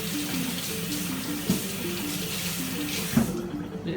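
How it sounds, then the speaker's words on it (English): Tap water runs steadily into a sink as produce is washed in a community kitchen, a continuous splashing flow with a couple of brief knocks, no speech over it. "He can give it a good old wash."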